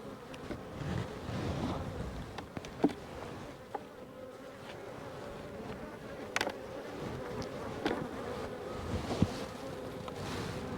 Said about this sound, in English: Why are so many bees up here?